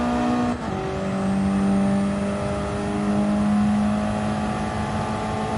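Car engine in Gran Turismo 7, a sustained loud drone whose pitch drops sharply with a quick downshift early on, then holds and climbs steadily as the engine revs, no voices.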